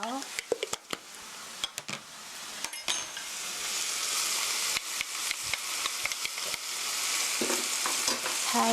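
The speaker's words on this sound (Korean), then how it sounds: "이렇게 살짝 토마토의 신맛이 좀 날아가게 원미닛 1분 정도 볶아주세요." Tomatoes and sugar stir-fry in a pan for eggs in hell, a steady close sizzle broken by repeated clicks and scrapes of a utensil against the pan.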